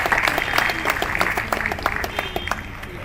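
Audience applause following a call to keep clapping at a Jammu and Kashmir gathering: steady dense clapping from a crowd, fairly close and continuous throughout with a few sharper individual claps standing out.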